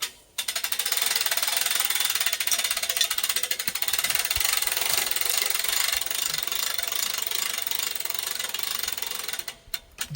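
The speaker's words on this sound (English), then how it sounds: "Will you get the winch going?" A winch strains to drag a 2000 lb log through forest near a stump, giving a loud, steady mechanical drone with rattling and knocking that runs almost unbroken for ten seconds before cutting off at the end.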